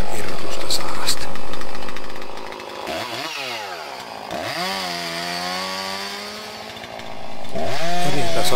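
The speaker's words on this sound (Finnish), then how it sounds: "Eritason sahaus." A chainsaw revs loudly, then bogs down and whines through a cut in energy wood, its pitch rising and falling before roaring back to full throttle.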